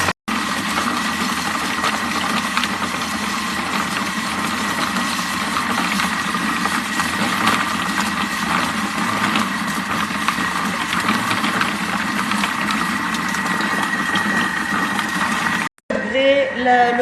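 A Thermomix running at speed 2 while it heats a chocolate mousse mixture, a steady close motor drone with a faint whine that holds evenly throughout before a brief cut near the end.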